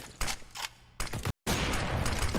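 A sniper rifle fires in a Counter-Strike: Global Offensive professional match between Cloud9 and Furia, with sharp loud gunshot bursts in quick succession, a brief silent gap, then a sustained dense burst of gunfire.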